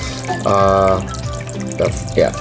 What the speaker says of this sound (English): It's pretty loud because the water level went down, and you can hear the water trickling down